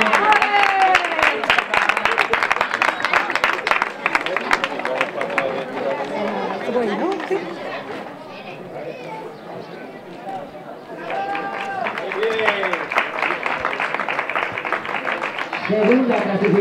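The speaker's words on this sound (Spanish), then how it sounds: "Venga, un aplauso, Mari Carmen." Crowd applause with scattered clapping fills the room, fading briefly mid-way then swelling again, while a voice speaks over it.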